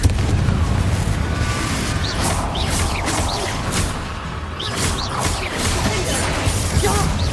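A Confringo fire spell blast in the Hogwarts Legacy video game, a loud continuous fiery roar and rumble with crackling bursts throughout, dense and close.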